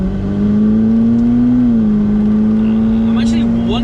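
The Ferrari Sergio, a rare 458-based V8 Ferrari, drones with a loud, steady engine and exhaust note from inside the car, pitch holding nearly level, with some talk in the cabin.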